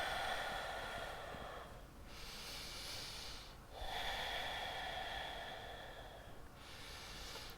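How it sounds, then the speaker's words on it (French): Slow, deep breathing during a seated yoga back stretch, with two long airy inhalations and exhalations close to the microphone in a calm, quiet room. "et je respire."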